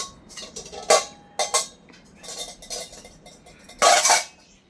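Copper and brass pots and vessels clank and scrape in short, uneven bursts as they are scrubbed, close by, with quiet gaps between the clatters.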